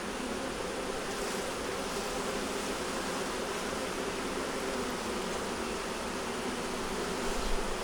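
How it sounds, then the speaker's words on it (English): Honeybees buzzing around a hive frame during an inspection for queen, eggs and stores, a dense steady drone close by with no other sounds. "We're going to take these bees off of here."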